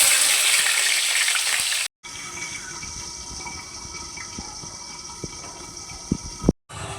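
Rohu fish pieces fry in mustard oil in a wok on a gas stove, giving a loud, steady hissing sizzle that cuts out briefly twice, with a few sharper pops near the end and no talking.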